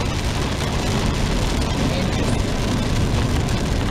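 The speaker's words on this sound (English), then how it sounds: "Y'all hear the rain?" Steady, dense rain hisses loud and constant throughout, with no pauses or voices over it.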